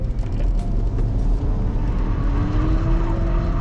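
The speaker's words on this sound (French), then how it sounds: "bravo Sébastien, du drift sur le Nurb, c'est interdit ça" A BMW 330 drifts on the Nürburgring with a loud, continuous engine roar and road rumble heard up close, the pitch rising steadily toward the end, with no speech over it.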